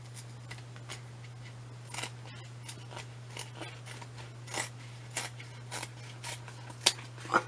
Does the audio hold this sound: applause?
no